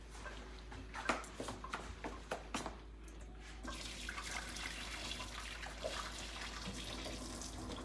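Water draining and splashing off cooked broccoli into a kitchen sink, a quiet steady gushing with a few louder splats and drips near the start.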